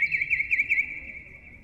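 Warbling bird chirps from pigeons in a courtroom, a bright fluttering trill for the first moment, then settling into a steady, sustained high tone over low room noise.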